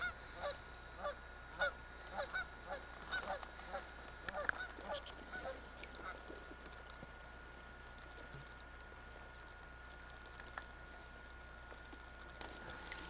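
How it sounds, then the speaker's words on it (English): Canada geese, flightless and being chased by wolves, honk repeatedly in scattered, irregular calls, fairly distant, over a steady low outdoor hum; the honking thins out toward the end. "Wolves chasing Canada geese, which are flightless."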